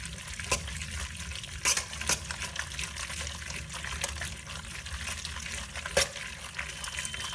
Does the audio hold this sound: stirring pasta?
yes